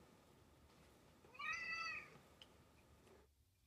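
A pet cat gives a single clear, moderately loud meow, rising and falling over about half a second, while someone works on drawing and carving a bluegill fish figure.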